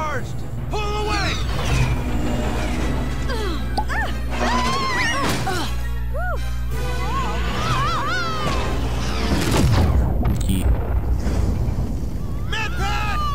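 A cannon blast in Lego Star Wars: The Skywalker Saga, one heavy crashing burst near the end, set among game character dialogue and background score.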